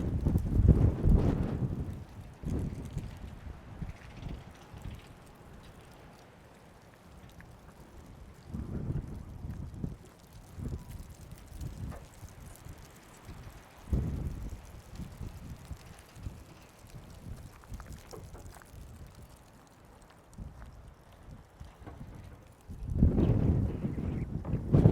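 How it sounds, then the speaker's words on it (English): Strong wind from a Texas wind storm buffeting the microphone in loud gusts, rumbling low and uneven, with calmer stretches between the bursts. "Gosh, it's windy."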